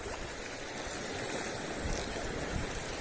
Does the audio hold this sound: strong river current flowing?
yes